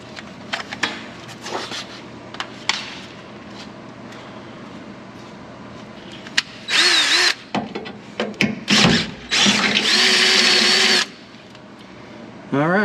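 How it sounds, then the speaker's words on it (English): Cordless drill with a dull bit boring into the steel frame of a Nissan Frontier truck, heard in two loud, sustained bursts of grinding whine after quieter handling sounds. "We'll see how hard this frame is when I try to drill through it with this probably really dull drill bit."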